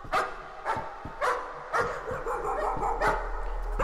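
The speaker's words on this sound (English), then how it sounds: "Oh, the doggy!" A dog barks repeatedly in the video game Layers of Fear, sharp close barks in an uneven rhythm over a low droning background.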